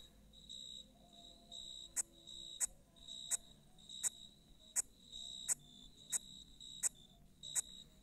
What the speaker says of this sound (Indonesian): suara jangkrik. Ciri khas banget ini, kalau udah malam nih.